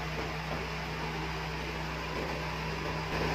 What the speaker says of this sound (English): The compressor will start to engage automatically after the right pressure in the compressor.